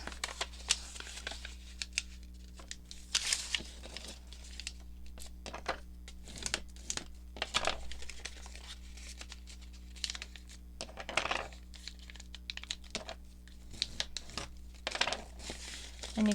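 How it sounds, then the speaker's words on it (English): Paper folded into a concertina by hand for a junk journal, with a string of close crisp creases, rustles and crinkles at an uneven pace over a low steady hum, with no talk. "So then the next step would be to fold concertinas."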